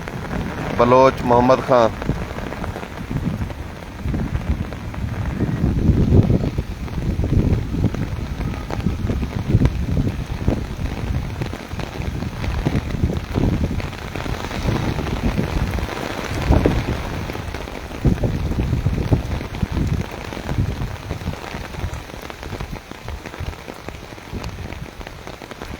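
Heavy rain pouring down in Taunsa Sharif, a dense, continuous close hiss and patter of drops drumming on surfaces throughout, with a voice talking now and then over the downpour.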